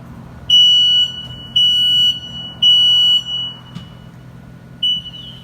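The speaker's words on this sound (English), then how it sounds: "here's what a smoke alarm sounds like" A household smoke alarm sounds a loud, piercing high electronic beep in three even bursts of about half a second each, then a brief pause before a fourth burst starts.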